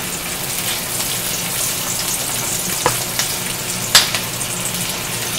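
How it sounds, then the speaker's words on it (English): Garlic sautés in olive oil in a pan, giving a loud, continuous close sizzle with a couple of brief sharper spatters and stirring taps partway through. "sauteing the garlic there"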